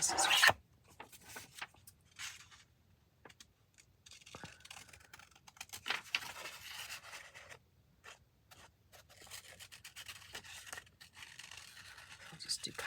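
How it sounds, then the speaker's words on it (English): Scissors snipping around paper during a craft session, intermittent quiet rasping cuts with pauses, close up, while someone talks over the work. "I'm going to use my scissors."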